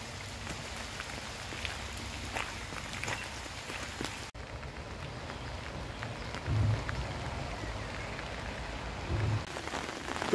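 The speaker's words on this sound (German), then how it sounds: "So, im Regen auf dem Weg zum Fjord." Steady rain falls around someone walking toward a fjord in Denmark, a dense close hiss of drops on surfaces with brief sharper splashes and a sudden cut partway through, without talk.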